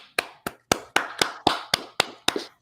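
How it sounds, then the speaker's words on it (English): A single pair of hands clapping at a close, even pace, about ten sharp, distinct claps with short gaps between them. "give it a round of applause for her"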